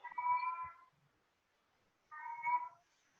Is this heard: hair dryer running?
no